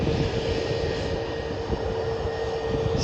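An empty easyJet Airbus A320neo on a positioning flight at Manchester Airport: a loud, steady jet engine roar with a constant whine, heard close and alone for a few seconds.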